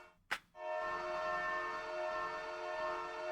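Minecraft Bedrock trains addon horn: after a brief click, a loud steady multi-tone train horn sounds and holds continuously for about three seconds with no talk.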